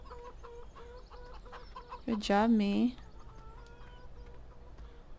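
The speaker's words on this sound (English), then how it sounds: "here's the chickens. You guys can see all the lovely chickens." Chickens cluck softly in the background in the video game Farming Simulator 2017, with one louder burst of squawking clucks partway through and a brief spoken remark nearby.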